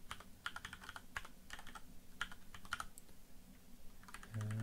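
Clicky typing on a computer keyboard while working in a terminal during an embedded debugging session, bursts of quick keystrokes with pauses between them, close and clear, ending in a low hum.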